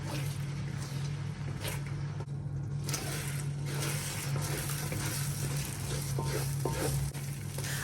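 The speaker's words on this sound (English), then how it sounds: "I'm going to now make a very nice scrambled eggs" Eggs scrambling in a little oil in a wok, a loud, constant, close sizzle with scraping stir sounds and a steady low hum underneath, without voices.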